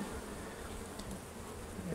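Honeybees buzz steadily at an opened hive during a queen check, a continuous close droning hum that holds at a constant level throughout with no voices.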